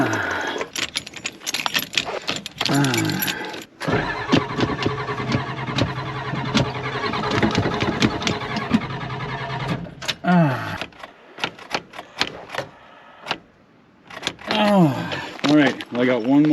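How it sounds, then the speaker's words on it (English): An old tow rig truck, a heavy-duty pickup, cranks and its engine starts amid keys jangling and cab handling noises, then settles into a rough mid-pitched running idle, with a voice speaking intermittently throughout. "let's fire up the tow rig."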